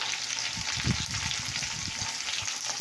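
Cut potatoes sizzling in a frying pan with spices, a steady close hiss with soft stirring scrapes and no talking.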